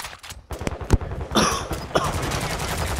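Automatic gunfire in the battle royale shooter Warzone 2.0, rapid close bursts of shots with a few sharper cracks and louder impacts, fairly loud and continuous for a few seconds.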